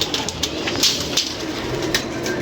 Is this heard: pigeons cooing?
yes